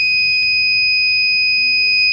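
An Arduino-driven buzzer on a smart toilet model sounds a continuous, loud, piercing electronic tone that holds steady for the whole stretch over faint background noise.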